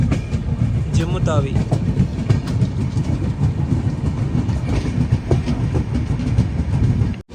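Steady carriage rumble and wheel clatter from an AC Express 3AC train travelling from Delhi to Kashmir, nearing Jammu Tawi, fill the whole stretch while someone speaks briefly over it early on.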